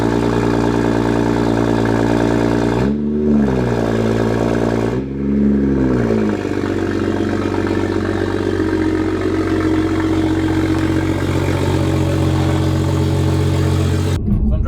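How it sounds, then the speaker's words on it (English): A BMW 135i with upgraded solid rear mounts drives on twisty roads, its engine drone steady and loud near the microphone, with a faint tonal whine from the rear differential and two brief dips as revs change. "you can hear a bit of diff whine come from the rear end"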